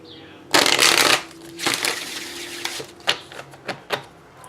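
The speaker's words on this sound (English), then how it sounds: "A slow little shuffle" Tarot cards riffle-shuffled in a loud, fast burst, then a second softer shuffle, followed by a few light taps and flicks as the deck settles.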